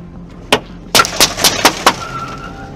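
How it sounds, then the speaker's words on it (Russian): Gunfire aimed at a car in daylight: six sharp, loud shots in an irregular sequence, one isolated crack followed by a quicker cluster of five, then a faint ringing tone in the background. "стреляли только что меня"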